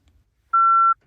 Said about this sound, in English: versus the distractor sound may sound like this